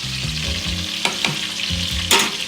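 Pieces of hilsa fish sizzling hard in hot oil, a dense close-up crackle with a few sharper pops and spatters and a rhythmic low pulsing underneath, no voices.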